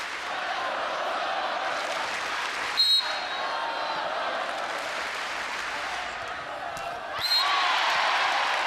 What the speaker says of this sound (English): we hear the crowd really getting behind the Gophers